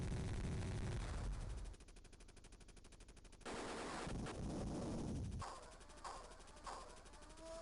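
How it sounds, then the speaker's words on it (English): A helicopter in the Sega Genesis game Jungle Strike fires its machine gun, with rapid bursts of retro gunfire that start and stop in several stretches amid game explosions, all fairly quiet. "we're going to machine gun these things first"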